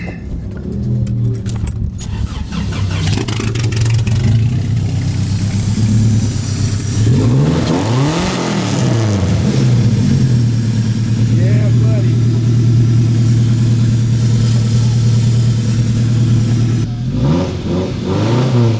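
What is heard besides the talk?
supercharged truck engine revving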